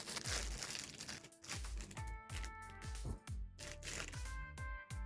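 A plastic bag packed inside another plastic bag crinkles during the unboxing of a cheap anime girl figure, giving loud, close rustling and crackling bursts in an uneven rhythm with no talk.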